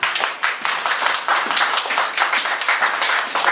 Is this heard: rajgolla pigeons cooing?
no